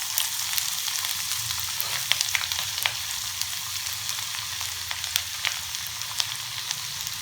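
Finely chopped ginger sizzling in hot oil with chillies and cumin, a steady close frying hiss crackling with small pops throughout.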